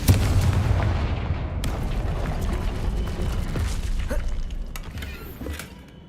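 Confringo fire-spell blasts in the Hogwarts Legacy video game boom and rumble in a heavy, dense burst that gradually fades, with creaking mechanical rattles and a few sharp cracks trailing off toward the end.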